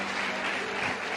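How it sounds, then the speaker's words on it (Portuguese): A church congregation applauds in steady, continuous clapping that fills the space with a dense, even wash of sound, with no talking over it. "Quem pode aplaudir ao Senhor?"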